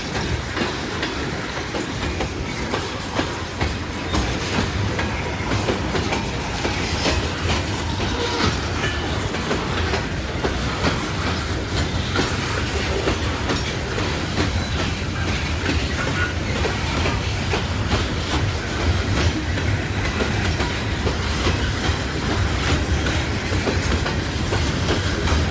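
A loaded coal train rolls past at Kenova on its way to a power plant, a long, loud, continuous rumble with steady clickety-clack of wheels over rail joints and occasional faint squeal, no voices.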